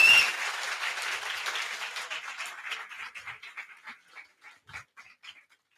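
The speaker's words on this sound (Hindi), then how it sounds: "जोरदार तालियों से स्वागत करेंगे" An audience applauds to welcome exam toppers at an academy felicitation, starting as a dense burst of clapping that thins out into scattered, separate claps before fading.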